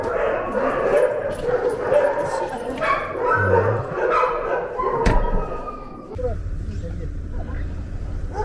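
Dogs bark, yip and whimper close by at an animal shelter, with people talking among them and a sharp slam partway through.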